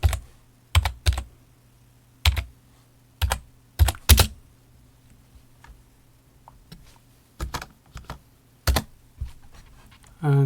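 Fingers tap a computer keyboard in scattered clusters of crisp key clicks, close and distinct over a faint low hum.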